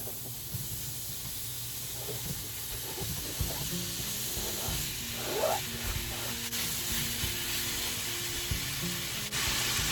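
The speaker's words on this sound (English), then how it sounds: "let's go ahead and get these sausages put in the pan" Sausages dropped into a hot pan set off a steady, close sizzle and hiss of frying that holds for the whole stretch, with small pops and crackles scattered through it.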